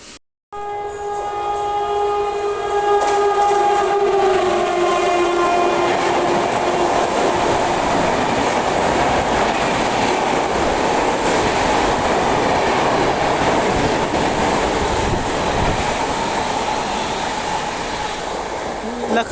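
The Lucknow Tejas Express, India's first private train, pulls out of a station toward New Delhi, a loud sustained rumble of rolling cars with a horn-like tone early on, heard continuously throughout.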